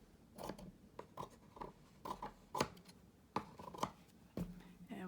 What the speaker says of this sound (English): I'm gonna cut this part